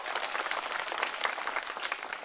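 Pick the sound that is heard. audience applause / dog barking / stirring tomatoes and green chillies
audience applause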